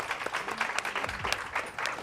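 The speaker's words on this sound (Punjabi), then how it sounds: "ਇੱਕ ਵਾਰ ਫਿਰ ਤੋਂ ਮੈਂ ਚਾਹੁੰਦਾ ਕਿ ਜ਼ੋਰਦਾਰ ਤਾੜੀਆਂ ਉਹਨਾਂ ਲਈ" Audience applause for a guest at a cooking competition finale, a short burst of clapping from a crowd, steady and fairly close.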